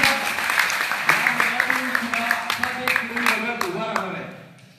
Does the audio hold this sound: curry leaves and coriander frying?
no